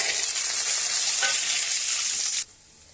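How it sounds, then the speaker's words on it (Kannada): Chickpeas sizzle loudly in hot oil in a pan over a tempering with curry leaves for capsicum rice, a steady frying hiss with faint stirring that cuts off abruptly near the end. "ಈ ಕಡಲೆಯನ್ನು ಕೂಡ ಚೆನ್ನಾಗಿ ಹುರಿಬೇಕು."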